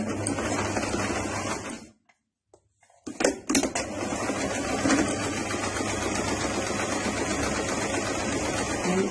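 A sewing machine stitches along the hem of a dress with a fast, steady mechanical whir, stops briefly for a second of near silence with a few clicks, then resumes running continuously and close.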